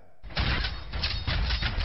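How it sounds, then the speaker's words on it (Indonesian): Dense, loud battle noise with rumbling booms and crackling bursts layered together, continuous and chaotic. "Perang."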